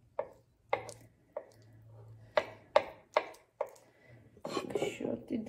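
Boiled eggs for a salad are sliced on a board with a knife, giving about eight distinct, close chopping knocks at an uneven, quick pace before a busier clatter at the end.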